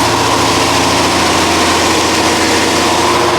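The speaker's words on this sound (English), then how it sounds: "just keep it on a fast idle for a minute." A C4 Corvette ZR-1 engine held at a fast idle of about 2,000 RPM, a loud, close, steady rumble with a constant low throb and no change in pitch, with no one talking.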